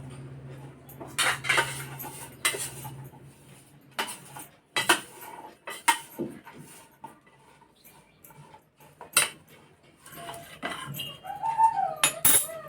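Raw mango pieces, chilli and karonda being mixed together for homemade pickle in a dish, with repeated close clinks and scrapes of a spoon against the vessel in an irregular rhythm, no talk.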